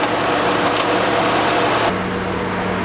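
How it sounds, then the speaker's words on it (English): A car engine idles during an A/C recharge, a loud steady hum and whir that drops to a quieter, even drone partway through, with no talking. "I'm going to shut the engine off while we're putting a can onto that valve"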